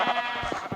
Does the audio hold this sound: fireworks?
no